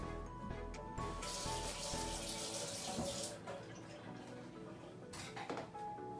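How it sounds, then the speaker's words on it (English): Tap water runs steadily into a sink as a paint brush is rinsed, a close, continuous splashing rush with a brief clatter midway, easing slightly toward the end with no talking. "And I gotta wash my brush again."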